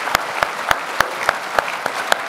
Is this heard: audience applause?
yes